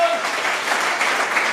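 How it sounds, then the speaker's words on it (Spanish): A church congregation applauds loudly and steadily in sustained, dense clapping that fills the space, with a faint voice briefly audible near the start. "Denle un fuerte aplauso al Señor Jesucristo."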